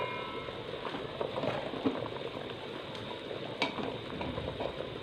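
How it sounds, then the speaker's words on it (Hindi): Water boiling in a pot for chana pulao, a steady close bubbling and rumbling simmer with small pops and clinks, no voices. "पानी को बॉयल आ चुका है।"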